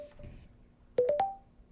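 A Bluetooth speaker plays its pairing confirmation as it syncs to a phone: a faint tone, then three quick rising electronic beeps, close and clean with no talking.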